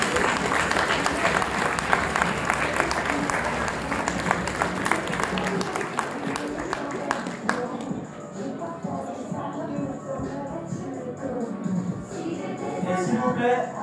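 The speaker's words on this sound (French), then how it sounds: "Un tonnerre d'applaudissements, s'il vous plaît, pour Chloé Duplessis." Audience applause for a candidate at an eloquence contest final, loud dense clapping from a hall full of people that fades after several seconds into quieter room noise and scattered sounds.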